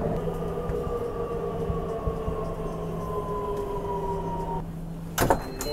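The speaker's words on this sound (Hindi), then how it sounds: "तो दोस्तों अपनी नमो भारत पहुंच चुकी है आनंद विहार टर्मिनल पे, निकल गई भाई।" A Namo Bharat rapid rail train at Anand Vihar terminal on the Delhi Meerut RRTS line, a steady low rumble and hum of the departing train with tonal whine, ending in a brief sharp clatter.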